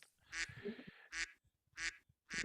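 Several ducks quack in short repeated bursts, four loud calls spaced about evenly, heard as background birds toward the back of a quiet room; sounds like a sound effect.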